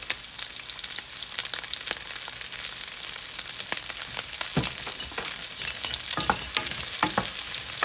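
Whole medium onions fry in a little oil for pork adobo, giving a steady close sizzle broken by the scrape and clatter of stirring.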